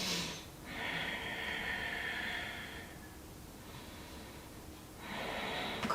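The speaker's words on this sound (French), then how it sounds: "3 grandes respirations" Slow, deep breaths are drawn during a gentle morning yoga stretch, each long airy inhale and exhale close and soft, separated by quiet pauses.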